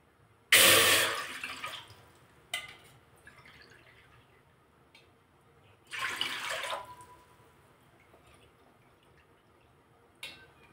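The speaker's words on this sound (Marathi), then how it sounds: "आपण या पातेल्यामध्ये याच वाटीने पाणी घेणार आहोत।" Water scooped with a small bowl is poured into a cooking pot in two short splashing bursts, the first loud and close, the second softer, with faint drips and quiet gaps between.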